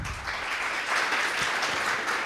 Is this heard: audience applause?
yes